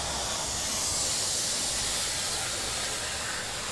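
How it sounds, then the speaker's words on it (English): A garden hose fitted with a pressure washer gun sprays foam off a car, a loud, steady, unbroken hiss of water spray that runs the whole time with no voices. "Look at that flooding action, getting all that foam out of there."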